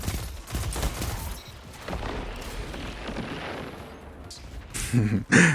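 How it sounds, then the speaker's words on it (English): A pulse rifle fires in an online shooter video game in steady bursts of rapid shots throughout, with a louder close volley near the end and someone talking over the gunfire. "This pulse rifle is doing an excellent job just holding down the spawn"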